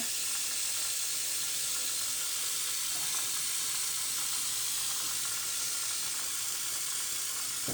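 Salted eggs boil in a pot of water with a steady, close hiss and seething bubble noise that runs unbroken from start to finish, nearing the point of boiling over.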